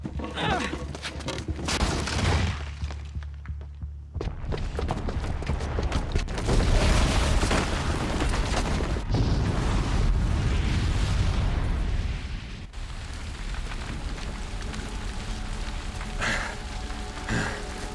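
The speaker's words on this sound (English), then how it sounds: "the booby trap on the bomb downstairs is gonna get set off" A bomb detonates in the Horizon Zero Dawn video game, a heavy booming blast followed by a long rumbling, crackling roar of debris that stays loud and dense for many seconds, with sharper bursts breaking through now and then.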